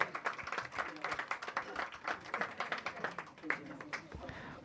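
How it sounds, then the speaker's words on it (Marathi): An audience at a media conference and journalists' gathering applauds with steady, dense clapping for several seconds at moderate loudness, with no speech over it. "मग होऊन जाऊ द्या जोरदार टाळी"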